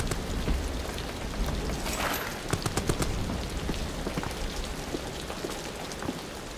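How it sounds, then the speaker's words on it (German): Steady, hissing rainfall in the video game Amnesia: The Bunker, an even wash of drops with a few sharper cracks breaking through partway in. "es regnet so wie jetzt"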